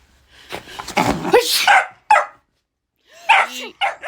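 A person sneezes, then a dog answers with a few sharp, close barks and a brief yip.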